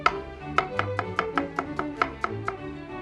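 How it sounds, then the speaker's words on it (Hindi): Onion sliced with a knife on a cutting board, about a dozen crisp, evenly spaced chops in quick succession, close and clear with no talking. "इस तरह से प्याज को स्लाइस कर लें"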